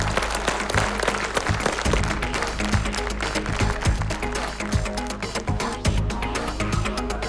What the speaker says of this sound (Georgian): აპლოდისმენტები, აბა გამომხნევოთ